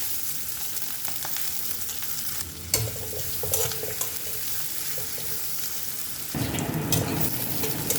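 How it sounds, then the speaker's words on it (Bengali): Dried fish sizzles steadily in mustard oil with green chilli, onion and garlic, a continuous close frying hiss broken by scraping stirs and a louder burst of sizzle near the end. "একসাথে ভেজে দিলাম"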